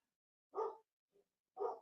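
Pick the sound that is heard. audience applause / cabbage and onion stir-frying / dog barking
dog barking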